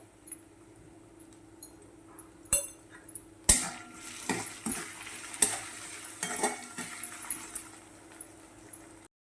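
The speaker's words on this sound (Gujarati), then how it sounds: "હવે આપણે તેને બરાબર મિક્સ કરી દઈશું" Potatoes are stirred in a cooking pan, a spoon scraping and clinking against the metal in a series of sharp taps and scrapes over a faint steady background hum.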